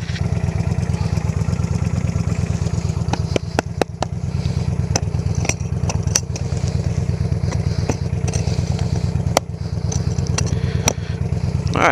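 A motorcycle engine idles steadily for the whole stretch with a low, even rumble, broken by scattered light clicks and clatters nearby, and nobody speaks.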